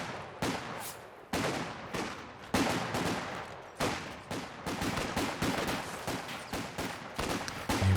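Heavy machine gun fire in the WWII strategy game Company of Heroes 2, a house-mounted gun hammering out long, dense bursts with short gaps between them. Other gunfire and battle noise overlap it, and no one talks.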